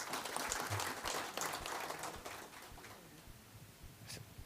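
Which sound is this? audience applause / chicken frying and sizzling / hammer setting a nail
audience applause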